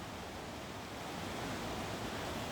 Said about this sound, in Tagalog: Dinig na namin yung agos ng tubig.